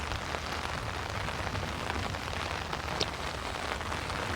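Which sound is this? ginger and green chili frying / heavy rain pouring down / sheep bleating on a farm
heavy rain pouring down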